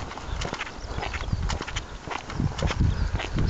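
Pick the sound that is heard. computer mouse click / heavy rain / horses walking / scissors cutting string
horses walking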